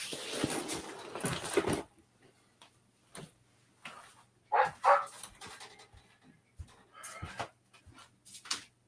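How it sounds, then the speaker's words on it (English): A small dog yaps and barks indoors in short, uneven bursts. The barks start loud and close, then come as scattered sharper yelps with quiet gaps between them. "now he's yapping and barking because I'm on air"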